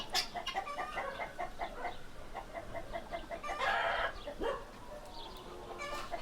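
Chickens and a rooster in a henhouse: steady clucking from several hens with a crow rising midway, close and lively, with no talk over it.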